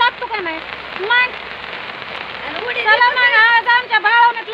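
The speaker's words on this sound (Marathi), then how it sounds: "आज आमच्या भाळवणीतला पाऊस आहे" Heavy rain falls in the village of Bhalwani, a steady patter drumming on surfaces close by, while people talk loudly over it.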